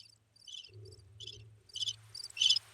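Crickets chirp in short, repeated bursts over a low steady hum, growing a little louder toward the end, with no voices; a sound effect played on a podcast.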